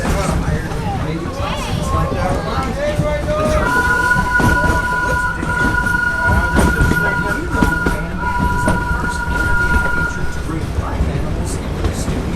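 A rumbling amusement park train ride at Animal Kingdom rolls along steadily with rattling and a sustained horn-like tone, while people talk over the noise.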